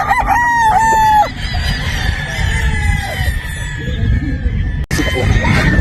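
A pure Boston Roundhead gamefowl rooster crows loudly and close on a Batangas game farm, one long drawn-out call with other birds clucking and calling nearby.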